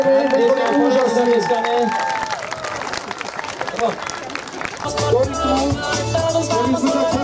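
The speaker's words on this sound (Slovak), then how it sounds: "Zatleskajme, to je úžasné." An audience applauds a children's stage performance, a loud continuous wash of clapping and cheering from a crowd with a voice talking over it and music underneath.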